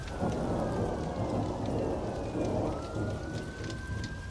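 A thunderstorm pours down with steady heavy rain and deep rolling thunder, a dense continuous roar that stays loud and close for the whole stretch, with no voices.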